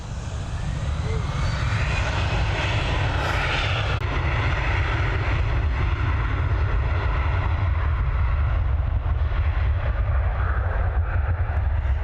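A Bombardier aircraft at Dublin Airport produces a loud, sustained engine roar with a deep rumble, steady and close for the whole stretch.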